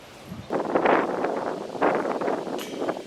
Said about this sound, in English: Nick fighting the wind